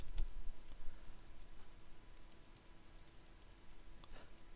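Steady close typing on a computer keyboard while entering web page style code, soft rapid key clicks running continuously over faint background hiss.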